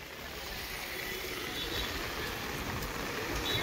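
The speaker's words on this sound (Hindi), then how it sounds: "बारिश हो रही है, ठीक ठाक हो रही है" Moderate rain falls steadily over a rickshaw stand in Nainital, a broad, even hiss that swells slightly toward the end, with no voices.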